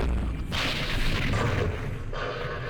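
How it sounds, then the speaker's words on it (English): Mortar rounds landing in the Vietnam war strategy game Campaign Series Vietnam, a dense, rumbling burst of booming impacts that swells loudly and sustains for a couple of seconds with no talking. "Try and hit me again with mortars."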